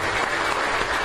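Crowd clapping steadily and loudly at a patron saint festival in Ahuehuetzingo, a dense burst of applause with no speech.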